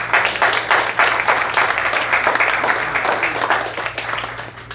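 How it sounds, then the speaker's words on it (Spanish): A church congregation claps for a few seconds in a dense, even wash of applause, with a faint low steady hum underneath. "¿Puede darle un aplauso al Señor?"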